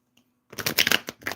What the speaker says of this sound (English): Hold on, didn't shuffle this right.